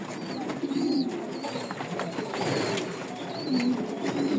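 Pigeons coo in a breeding loft, several soft, low, rolling coos repeating close by over a quiet room.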